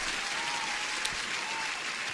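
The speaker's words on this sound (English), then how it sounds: "let me give one more applause to you guys" A short burst of recorded crowd applause, steady dense clapping heard alone for about two seconds at moderate level.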